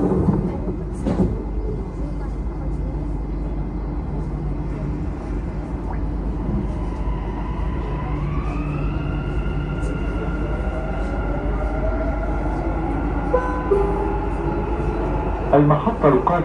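A Dubai Metro train rides between stations, a steady low rolling rumble inside the car with a rising electric motor whine as it accelerates and faint rail clicks, voices present.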